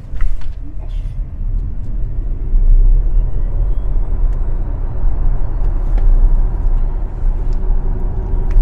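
Skoda Enyaq Coupe RS electric car accelerating from a standstill, a low road rumble and tyre roar that swells after a few seconds and holds steady, with a faint rising electric whine and no engine note.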